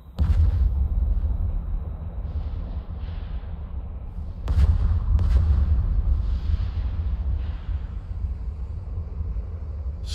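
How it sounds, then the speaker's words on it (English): A ship explodes in the space game EVE Online: a sustained low rumble carries throughout, with a couple of sharper bursts midway over continuous droning engine-like noise. "Huge explosion."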